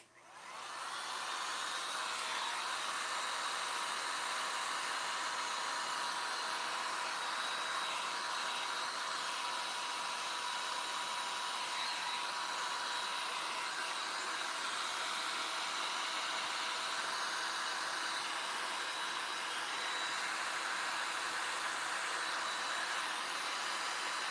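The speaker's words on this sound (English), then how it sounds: "We're going to take this heat gun. We're going to force crack." A heat gun blows steadily and close up, a continuous broadband whoosh with a constant hum, used to force-crack gesso on a dresser; it runs without a break and no one talks.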